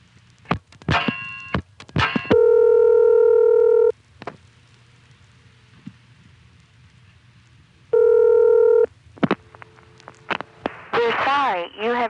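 A 1976 step-by-step telephone exchange in Lancaster, Pennsylvania handles a dialed call: sharp clicks and thunks of switching relays alternate with two long steady tones, ending in a warbling tone.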